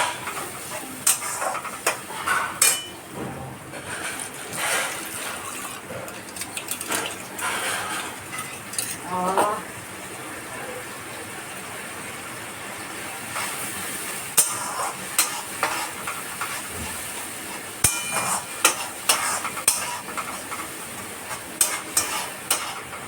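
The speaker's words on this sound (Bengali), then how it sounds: "এটা কষতে থাকুক অলরেডি লাল লাল হয়ে এসছে মানে তেলটা ছেড়ে দিয়েছে কষে এসছে" Mutton curry sautéing in oil in a pan over a raised flame, with steady sizzling and frequent clinks of a stirring spoon against the pan throughout, no voices.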